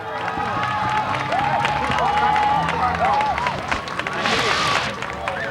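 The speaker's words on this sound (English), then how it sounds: "Let's have a nice round of applause for Mako." A studio audience at a Hollywood talk show applauds steadily, a dense wash of clapping with some cheering, while a voice speaks over it.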